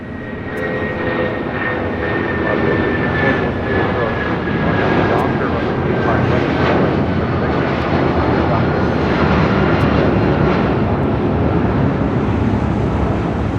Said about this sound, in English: Next departure on 25 rights, United Airlines flight 2213 heading to Newark